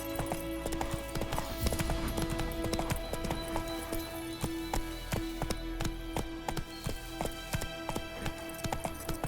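A horse's hooves beat a fast, steady clip-clop gallop in The Witcher 3: Wild Hunt, loud and close, with faint rattling of tack and no speech.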